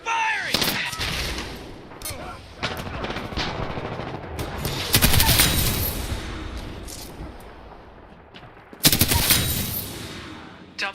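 Rapid automatic gunfire from Titanfall 2 rattles in repeated bursts and sustained volleys, loud and close, with sharp heavy blasts near the middle and end.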